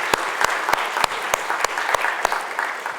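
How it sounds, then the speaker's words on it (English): An audience applauds at a college summit session, a dense, even patter of many hands with a few sharper near claps standing out, steady for a few seconds. "let's give them a round of thanks and applause."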